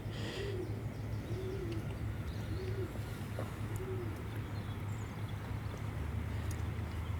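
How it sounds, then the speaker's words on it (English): Pigeon cooing beside the waterfront at Exeter Quay, four soft repeated coos spaced about a second apart over steady outdoor hum, close by. "I don't think a pigeon's ever got so close to me before."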